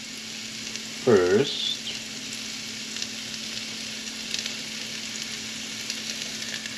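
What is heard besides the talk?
onions sautéing in a pan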